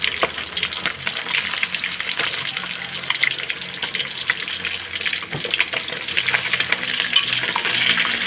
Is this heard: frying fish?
yes